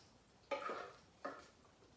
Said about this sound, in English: I'm just gonna stir that cheese into that thick sauce